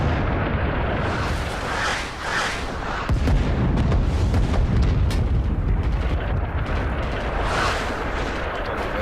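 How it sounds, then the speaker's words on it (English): Artillery strike in the Vietnam War shooter game Rising Storm 2: Vietnam: a dense, continuous barrage of heavy booms and rumbling blasts, loud and close, with one brief dip before the shelling surges again. "as you can see now, he's calling in the artillery"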